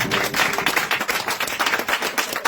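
A church congregation claps in rhythmic acclamation during a prayer service, a steady run of sharp, close handclaps filling the whole moment with no talk over it.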